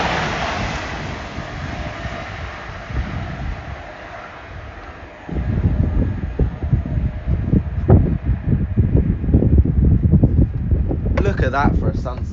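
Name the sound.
wind blowing on the camera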